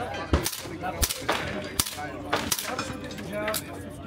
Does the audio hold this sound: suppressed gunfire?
yes